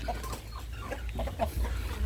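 Chickens on a Thai free-range poultry farm cluck and chatter in overlapping calls against a constant rumble of background noise, with no talking.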